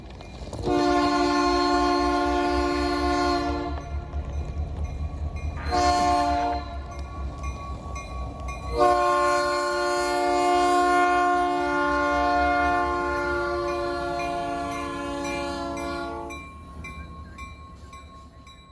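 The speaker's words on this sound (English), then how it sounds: "I went to this crossing to see an Illinois Central SD70 going back to the yard" An Illinois Central SD70 locomotive heads back to the yard past a rail crossing in the Arkansas Delta, sounding its horn in a long blast, a short one, then a long sustained blast over the rumble of the train rolling by close.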